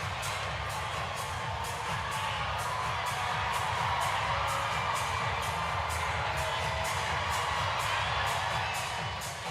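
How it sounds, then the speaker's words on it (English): A large crowd at Kentucky's Big Blue Madness basketball event roars continuously in a big arena, with a dense, sustained wash of cheering and whoops that stays loud and even throughout. "A great crowd on hand here for Big Blue Madness early on, and it's only going to continue to build."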